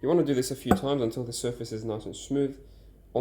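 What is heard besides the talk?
No everyday noises stand out.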